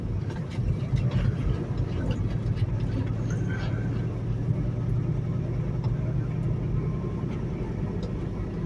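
A truck engine drones steadily from inside the cab on the road, a continuous low rumble with road noise as the rig pulls out with another truck following behind.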